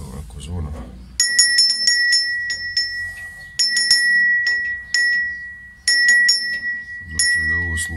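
A bell rings in short bursts of rapid strikes inside the cab of a narrow-gauge mine locomotive. The bursts are loud and close, with pauses between them, and someone talks before and after the ringing.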